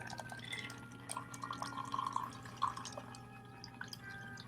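A tiki cocktail poured into a glass, giving soft trickling and dripping liquid sounds with a few clearer splashes, fairly quiet over a low steady background hum.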